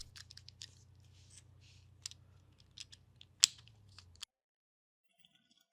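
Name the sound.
trimming electronic component legs on a circuit board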